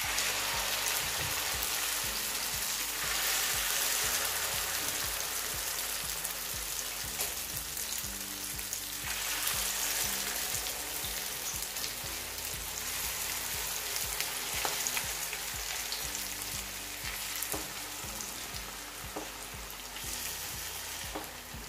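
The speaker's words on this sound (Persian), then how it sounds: "یه مقدار روغن ریختم داخل ماه تابه و گذاشتم داغ بشه و الان از این موادی که آماده کردم و نصفشو میریزم داخل ماهیتابه" A walnut and eggplant kuku mixture fries in hot oil in a pan, giving a dense, steady sizzle and crackle that goes on without a break, close by and with no talking.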